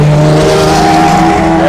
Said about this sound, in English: the famous Ferrari 333. That's what just rolled out of the pits now